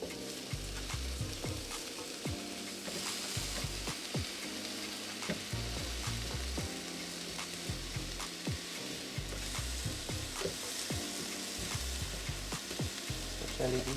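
Shrimp sizzle steadily on a grill after being wetted with pineapple juice, a loud, close crackling and hissing with frequent scraping and stirring clatter throughout.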